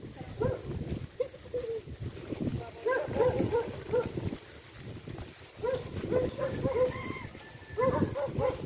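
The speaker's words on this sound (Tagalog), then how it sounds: "ang daming aso guys" Several dogs barking in a rural area, repeated overlapping barks at moderate distance mixed with outdoor background noise and some talking.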